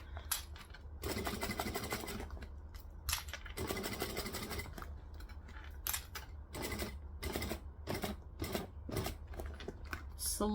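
A sewing machine stitches around a fabric bag in quick bursts of mechanical whirring and clatter, starting and stopping repeatedly at close range.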